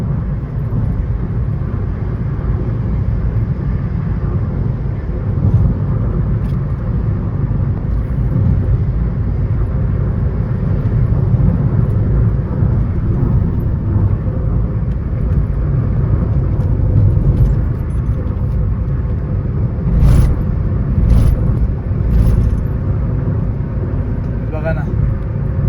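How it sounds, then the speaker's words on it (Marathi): A car on a monsoon highway trip, pushing toward 100 to 120 km/h, makes a loud, continuous road and engine rumble, with voices talking over it and a few sharp clicks late on. "आता बघ 100ला टच होते आपली गाडी."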